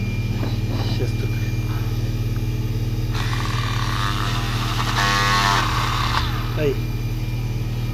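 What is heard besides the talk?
four-pole motor running at 6000 rpm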